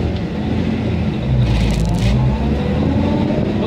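The engine of a 1947 Chevrolet pickup truck drones steadily and close as the driver shifts into a stiff third gear, with a brief rise in revs partway through.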